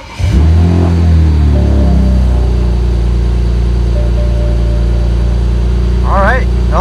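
A tuned BMW N54 engine in a car catches and settles into a steady, loud idle, its low rumble continuing without pause; a brief voice is heard near the end.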